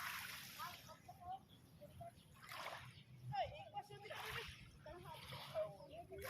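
Sea water splashes and sloshes at the shore near Ormoc, with irregular soft splashes under faint background voices, fairly quiet overall.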